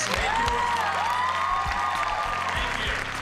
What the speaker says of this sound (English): I just want a big round of applause to thank you.